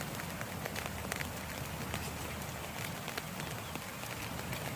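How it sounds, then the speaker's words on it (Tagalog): Light rain patters softly and steadily on a surface, a faint continuous drizzle with scattered drops. "Umaambon-ambon."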